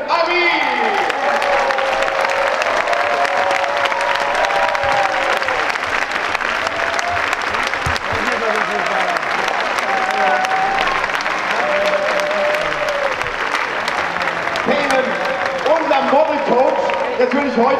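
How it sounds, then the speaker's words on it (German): A crowd at a Down syndrome sports festival fashion show applauds and cheers for Peyman Amin, loud continuous clapping with scattered voices and shouts, while an announcer speaks over it with music in the background. "Euer Applaus für Payman Amin!"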